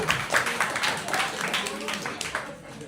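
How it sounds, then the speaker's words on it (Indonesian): A seminar audience claps hands together, a short, moderate patter of applause. Voices talk over it the whole time. "Kita tepuk tangan buat semuanya."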